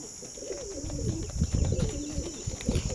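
Soft, repeated pigeon coos close by, rolling and low, over faint background hum.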